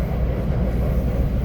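Train ride through Japan on a line toward Kanazawa Station, heard as a steady low rumble of wheels and running gear that stays continuous and even throughout, with no voices.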